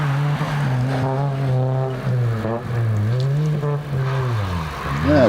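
A Toyota Celica race car driven by a junior competitor climbs a hillclimb course, its engine note held loud and steady, then rising and falling through revs and gear changes, with no talk.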